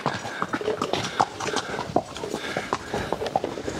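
Horse hooves clip-clop steadily at close range during a bumpy trail ride down toward a volcano valley in Mexico, the irregular hoof strikes ringing out alone with no talk.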